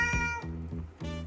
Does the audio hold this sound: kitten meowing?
yes